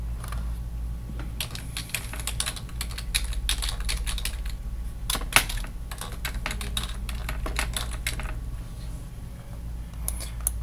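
Fingers tapping on a computer keyboard while entering a password, quick irregular clicks in short bursts with brief pauses, close and fairly quiet over a low background hum.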